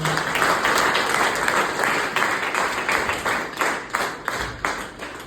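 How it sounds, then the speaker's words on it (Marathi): A crowd applauds at a business opportunity presentation, with dense, sustained clapping that stays loud throughout and swells in uneven bursts toward the end. "सेवन वंडरसाठी जबरदस्त टाळ्या वगैरे"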